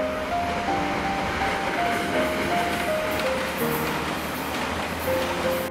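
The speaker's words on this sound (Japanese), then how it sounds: "隣の観光線、各駅停車です。" A Japanese local stopping commuter train rumbles steadily past at close range on a quadruple-track line, with a continuous roar and a faint tonal whine rising and falling over it.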